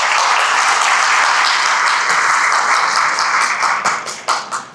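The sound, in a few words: audience applause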